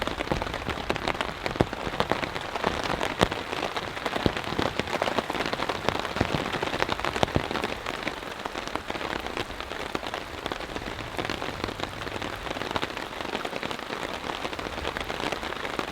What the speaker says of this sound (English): All that I've heard actually is the wind. And now, the rain.